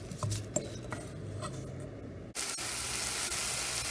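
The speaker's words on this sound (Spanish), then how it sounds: "vamos a sofreír esto en el fuego por unos 2 minutos" Salt, cumin and pepper seasoning base sautéing in a pan over the heat, a steady soft sizzle and patter running throughout, slightly louder after a brief dip midway.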